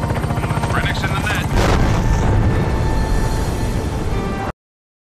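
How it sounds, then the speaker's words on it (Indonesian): A movie explosion in a sci-fi action film about a secret orbital weapon, heard as a heavy, sustained roaring rumble that swells about a third of the way in and then cuts off abruptly. "apakah Karen dan Danny berhasil selamat dari ledakan?"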